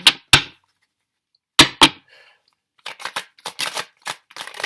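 Tarot cards being shuffled in short crisp bursts: two quick riffles, a pause, two more, then a longer run of rapid irregular flicks and snaps, close and fairly loud.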